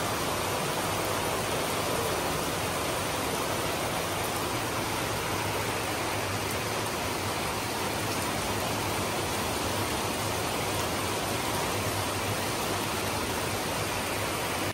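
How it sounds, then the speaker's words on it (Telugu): Heavy rain falling in big drops makes a dense, loud, unbroken broadband roar that stays even for the whole stretch, with no voices. "వర్షం ఏమో పెద్ద పెద్ద చినుకులు వస్తున్నాయి"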